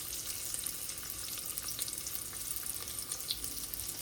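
Chopped onion and bay leaves fry in hot oil, a dense continuous sizzling crackle heard up close and steady throughout, with no voices.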